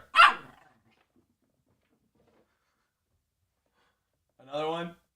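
A dog barks on command indoors, giving two short, sharp barks separated by a few seconds of silence.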